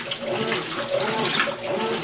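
Water rushes steadily into a faulty washing machine set on a low setting for a small load of towels, a continuous close splashing stream.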